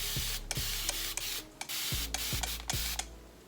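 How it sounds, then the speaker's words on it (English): A spray bottle spritzes water onto wig hair in about eight quick hissing bursts, each a short sharp puff heard up close over a low background hum, with no talk. "I shall take my spray bottle and do a quick little"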